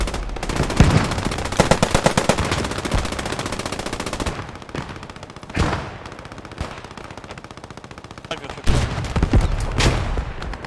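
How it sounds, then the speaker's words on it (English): Dense gunfire in the WWII shooter game Post Scriptum, with rapid machine-gun bursts, a lull, then further volleys and single shots, loud and close, interspersed with distant booms. "Shooting from the other room."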